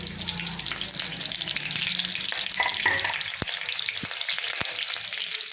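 Cumin seeds and chillies frying in hot oil, a continuous close hiss and crackle with some stirring and a few sharp clinks of a utensil against the pan near the end.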